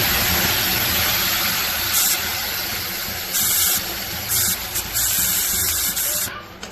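Ground masala paste frying in hot oil with cumin for an egg and potato curry, a loud continuous sizzling hiss that dips and surges as the paste is stirred.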